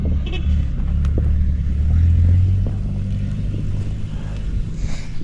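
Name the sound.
old pickup truck engine running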